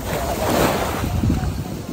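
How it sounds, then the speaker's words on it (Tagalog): Ocean waves wash and surge close by at Willy's Rock, Station 1, Boracay, mixed with wind buffeting the microphone, rising in two swells. "Tapos malakas yung alon."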